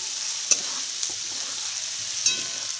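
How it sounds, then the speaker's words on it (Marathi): Onion frying in oil in a wok for poha, a steady close sizzle with a few sharp clicks of stirring, no talk. "कांदा लाल भाजून घेते."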